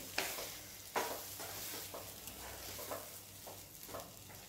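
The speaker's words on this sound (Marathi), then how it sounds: "व्यवस्थित अशी हलवून घ्यायची आहे" Chana dal being stirred in a pan over a low flame, soft scraping strokes recurring about once a second over a quiet, steady background, close and fairly faint.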